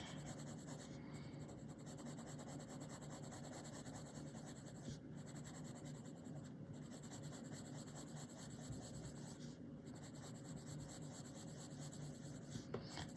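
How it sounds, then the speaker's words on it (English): Amazon Basics colored pencil shading on paper: a continuous close, soft scratching and rubbing of lead across the sheet, with light, even strokes running for about thirteen seconds and no talking. "I'm lightening my pressure on the pencil."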